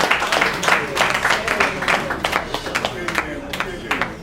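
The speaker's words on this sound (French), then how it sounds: "On applaudit encore pour eux" An audience claps and applauds at a Congolese political gathering, steady dense clapping with sharp individual claps standing out, sustained through the whole moment with no one speaking.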